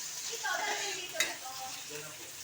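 Garlic and then onion sautéing in a pan for lumpiang toge, a steady close sizzle with a few soft stirring scrapes and one sharp utensil clink midway.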